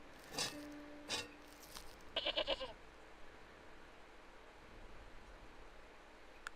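A tethered goat, tangled on an old plowshare in the game Broken Sword, gives a few short bleats, one a quick stuttering call, fairly faint against steady ambient noise.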